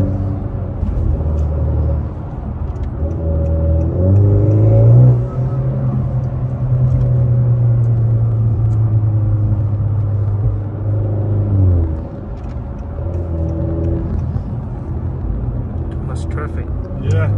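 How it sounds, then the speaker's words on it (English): Low rumble of New York City street traffic heard from inside a tuned 2019 Honda Accord 2.0T, a steady engine drone with a rising and falling hum, while people talk over it throughout. "Traffic. Yeah, that's New York City for you."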